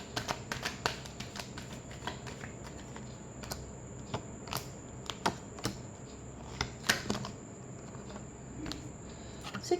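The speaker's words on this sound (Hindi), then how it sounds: "last shuffle" Tarot cards being shuffled by hand, a quiet run of crisp riffling clicks and flicks in an irregular rhythm, close to the listener with a faint steady background hiss.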